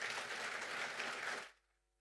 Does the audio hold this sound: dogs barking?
no